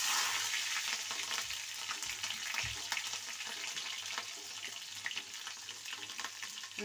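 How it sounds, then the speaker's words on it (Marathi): Mustard seeds, cumin, curry leaves and chillies crackle in two ladles of hot oil in a kadhai, a soft, continuous spitting and popping close by. "राई जिरं सगळं हे तडतडल्यावर कांदा टाकणार आहे"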